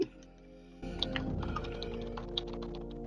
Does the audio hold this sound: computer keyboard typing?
yes